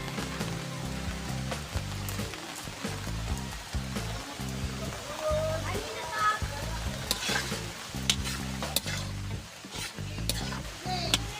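Shabu shabu is stirred in a pot with a sizzling, bubbling broth and scraping strokes of a utensil in an irregular rhythm, with rain pattering in the background.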